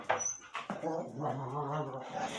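Two pet dogs in a bedroom whine and whimper in short, rising yelps and a longer whining stretch, close by and fairly loud.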